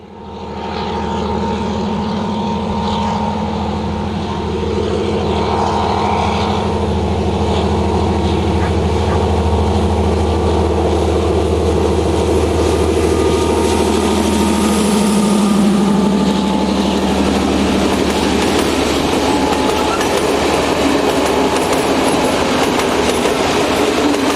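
An M41 diesel locomotive, number 2147, with a 1325 kilowatt engine, passes at a Belgian railway location near Antwerpen, a loud continuous engine drone and rumble rising as it draws near, with rolling wheel noise building toward the end.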